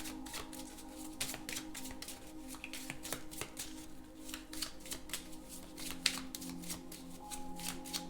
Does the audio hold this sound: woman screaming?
no